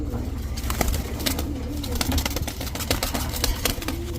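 A pair of red ash Gorra pigeons coo softly and repeatedly nearby, with fluttering and clicking movements throughout, while a person talks over them.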